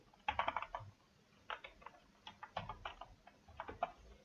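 Quiet, close clicking of a computer keyboard as someone types a short message, with irregular bursts of keystrokes separated by brief pauses.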